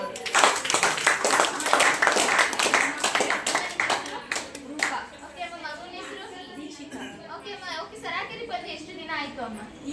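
A small group of people claps loudly and fast in a family home, the applause fading after a few seconds while adults and a child keep chatting over it.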